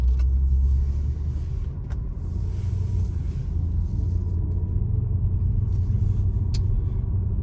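A Range Rover SVR Carbon Edition SUV drives with its active exhaust opened, producing a deep, steady engine and exhaust rumble from inside the cabin, with no talking.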